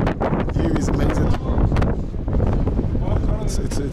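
Strong wind buffets the microphone in loud, gusty bursts at a cricket stadium in Pakistan, with a voice partly audible beneath the roar.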